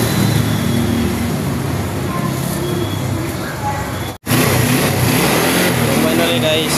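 A mid-pitched Rusi Bolt125 motorcycle engine runs steadily near by while warming up, cutting out for an instant and then resuming, with a voice talking over it.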